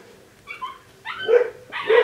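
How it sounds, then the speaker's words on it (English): Dogs fighting on a lane bark and yelp in short bursts, a few sharp barks and whines spaced out over a quiet background, moderately close. "Sorry, I got some dogs fighting on the lane."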